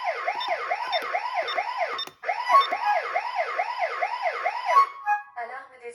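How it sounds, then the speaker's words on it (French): A Eufy home alarm siren set off by the SOS button wails in rapid repeating rising sweeps, loud and close, briefly cutting out once and then stopping with a few short beeps. "Une notification est alors envoyée, la sirène s'active et un email est automatiquement transmis à l'ensemble des utilisateurs enregistrés sur le compte."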